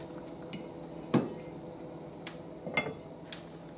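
Spoon clinking against a one-pot pan of cooking mushrooms and apricots, a few sharp metallic taps and scrapes spaced apart over a quiet simmer, fairly faint and close.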